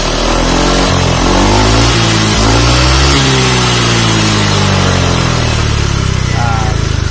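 A Honda Vario 125 scooter engine is revved hard up close, the loud whine sweeping up and down through several throttle blips before holding at a steady high drone.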